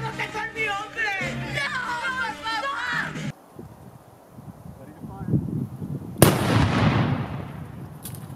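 A loud black powder blast bursts out after a stretch of talk, followed by a rumbling, crackling roar and scattered debris under distant voices.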